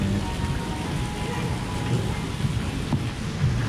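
Heavy rain pouring at the outdoor pool of a Riu hotel, a dense, loud, continuous patter with low rumbling underneath and no talk.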